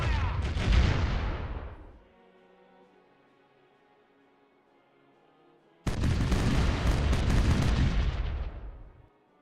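Broadside of cannons from a ship's right side in the Caribbean Legend pirate game, a loud booming volley that fades into a quiet tail, then a second heavy burst of cannon fire several seconds later.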